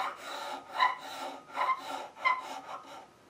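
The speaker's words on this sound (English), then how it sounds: "Now I can use this little scraper to just smooth it out if necessary," A small hand scraper smoothing a carved wooden apron on a 17th-century-style bench, heard up close as soft rasping strokes in a slow rhythm of about four passes.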